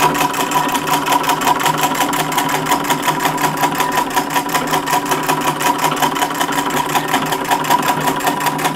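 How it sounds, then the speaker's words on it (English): Sewing machine stitching fabric for an interlined caped hooded coat, a fast even mechanical clatter running nonstop for several seconds, close and loud. "I'm just kind of trying to fill the entire thing in with stitching"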